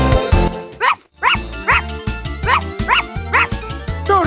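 A cartoon dog in the 102 Dalmatians PS1 video game barks in a rapid series of about eight sharp yips over game music, loud and evenly spaced after a brief pause.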